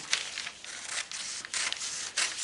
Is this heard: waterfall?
no